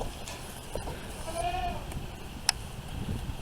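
Goats call from inside a barn on a farm, one drawn-out bleat rising faintly above steady background noise, with a brief sharp knock shortly after.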